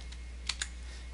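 Computer keyboard typed while entering JavaScript loop code: two or three quick, light key taps near the middle, faint and close, over a steady low hum, with no talking.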